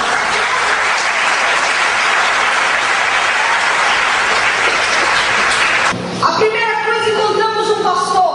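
Loud, sustained applause from a church congregation fills the room for several seconds, then cuts to a voice and sung tones near the end.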